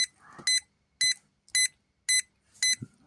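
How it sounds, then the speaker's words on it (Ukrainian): A car's front parking sensor sounds five short, evenly spaced electronic beeps, loud and close, with faint rustling between them, about a metre from a wall. "І ще й пікає. Ну, це партронік"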